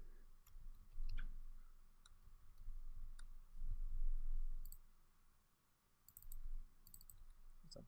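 Computer mouse clicks while building an Angular 5 app with Firebase, a few sharp isolated clicks spaced irregularly with quiet stretches between, close and fairly soft.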